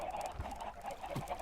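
Chickens in a farming video game cluck softly, a few short low clucks scattered over a quiet background, faint and close.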